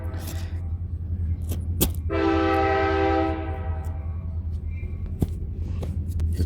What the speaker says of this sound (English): Ignore the train.